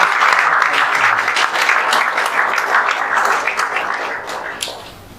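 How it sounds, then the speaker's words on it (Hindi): An audience in a coaching institute hall celebrating JEE Main 2024 results bursts into loud, sustained applause, dense clapping continuing for several seconds before gradually thinning out at the end. "और एक बार जोरदार तालियां"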